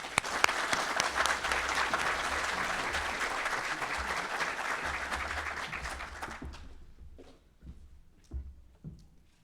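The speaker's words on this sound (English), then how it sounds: "how about a big round of applause for basic recruit classes 602 and 603" Audience at a graduation ceremony for basic recruit classes claps in steady, dense applause that holds for about six seconds, then thins out into a few scattered claps before fading.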